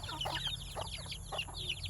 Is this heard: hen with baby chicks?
yes